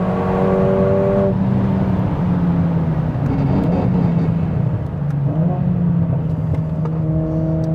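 A 500 bhp Mercedes-AMG A45 S pulls hard on a wet track-day lap, its engine droning loud and close with rising revs, a brief gear shift near the start and steady tire hiss beneath.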